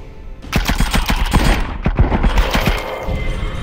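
Enemy gunfire in the VR shooter The Light Brigade, rapid bursts of sharp shots cracking close and loud in quick irregular volleys.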